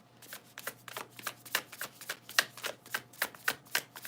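Light Seers tarot cards being shuffled, a steady series of crisp riffling flicks repeating about every quarter second, close and quiet against a faint low hum, with no voices.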